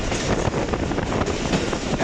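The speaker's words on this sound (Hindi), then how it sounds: "ऐसा समा है जैसे ट्रेन जंगल से गुजर रही है" The Ravi Express passenger train runs through a forest on a branch line between Lahore and Shorkot, giving a loud, continuous rumble with rapid clattering and wind buffeting.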